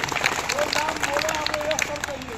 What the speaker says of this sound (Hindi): आप उठाइए, जोरदार ताली से स्वागत करिए